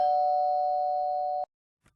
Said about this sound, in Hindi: घंटी बजाते ही डेविस ने दरवाजा खोला।